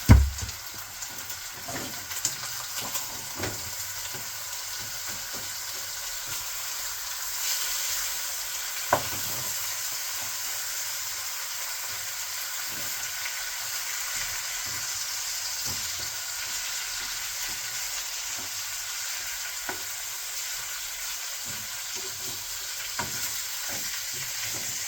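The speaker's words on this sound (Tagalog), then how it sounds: "Napiprito-prito na siya. Kasi ang dami ng mantika kasi mataba yung manok." Continuous frying sizzle and hiss of fatty chicken in plenty of hot oil, with occasional soft clicks and stirring sounds, steady and close.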